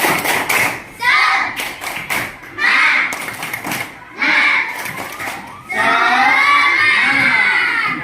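Schoolchildren in a classroom Quran lesson perform a rhythmic clap-and-shout cheer, with bursts of loud synchronized claps and thumps alternating with short pauses, ending in a long stretch of excited shouting voices.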